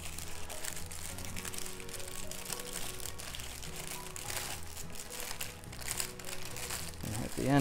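Parchment paper wrapped around grouper as an en papillote packet is folded and its end twisted tight, giving steady close crinkling and crumpling that swells louder near the end.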